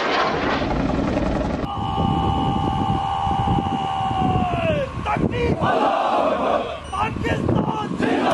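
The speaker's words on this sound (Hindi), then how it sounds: "पाक फौज में जदीद Z-10ME अटैक हेलीकॉप्टर शामिल।" A Z-10ME attack helicopter passes with loud rotor and turbine noise under a strong whine that falls in pitch, then gives way to blustery wind and crowd-like rumble.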